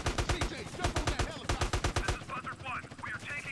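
Rapid bursts of automatic gunfire from GTA San Andreas gameplay as a helicopter is shot down, loud close rattling volleys in quick rhythmic strings, pausing briefly, then giving way to whooshing game effects near the end.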